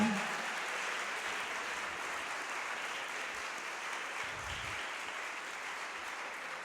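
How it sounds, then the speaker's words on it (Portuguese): A church congregation applauds continuously, a soft, steady wash of many hands clapping at a distance, with faint low knocks beneath. "Pode aplaudir, adora a Deus, irmão."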